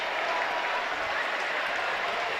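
A large crowd at the Saracen Joust in Arezzo cheers and applauds a victory, a loud, dense, unbroken wash of clapping and crowd roar sustained throughout.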